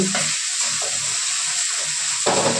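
Tomato sizzles steadily in hot oil in a pan during preparation of an ar fish curry. The frying hiss is constant and close, with soft low bubbling beneath it and no voices.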